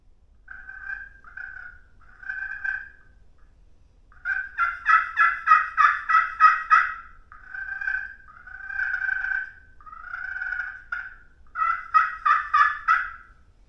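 A handheld slate turkey call worked with its striker gives repeated yelps in short series, with some fast clucking runs mixed in. The sound is close and clear against a quiet background, with no talking.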